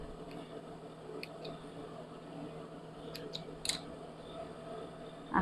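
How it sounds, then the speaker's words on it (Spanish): Sewing scissors snip loose threads after a tie collar is stitched onto a women's blouse. A few quiet, brief cuts come near the middle of the clip over a faint, steady room hum. "Ahora sí, cortamos hilos"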